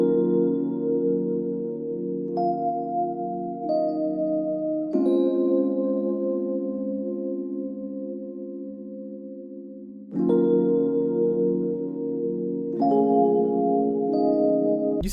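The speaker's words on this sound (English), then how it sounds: "the first sound that I got was called Jade. It's this electric piano that we have in the bank," Jade, an electric piano preset from the Analog Lab bank, plays soft sustained chords alone. Each chord rings out and decays slowly before the next one comes in, giving a warm, gentle progression.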